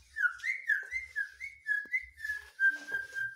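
A pet parakeet whistles a steady run of connected chirping notes that settle into a long, even tone near the end, close and unaccompanied by voices.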